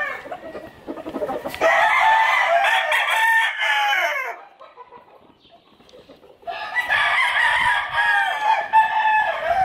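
Fighting roosters crow in loud, drawn-out calls, one after another, with a quieter pause between bursts and no talking.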